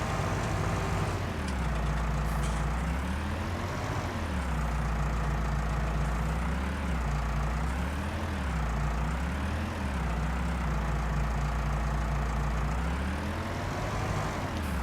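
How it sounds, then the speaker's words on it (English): A tractor engine in the farming game Farming Simulator 19 runs steadily with a deep, loud drone. Its pitch rises and falls in slow waves as it revs, with no other sounds over it. "Get into this tractor."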